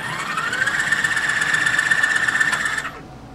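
A 2015 DiveX BlackTip dive scooter motor runs with a steady, high electric whine and mechanical buzz for about three seconds before cutting off abruptly.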